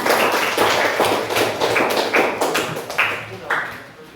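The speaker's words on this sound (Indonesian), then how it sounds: "Tepuk tangan dulu untuk kita semua." A group claps in unison, a series of about eight sharp, evenly spaced claps at roughly half-second intervals, close and loud.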